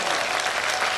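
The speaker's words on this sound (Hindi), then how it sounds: "एक बार जोरदार ताली बजनी चाहिए हमारे अनुज के लिए" A large crowd at a Sanatan Hindu unity padyatra discourse claps on request, a loud dense burst of applause held steady through the brief moment with no talk.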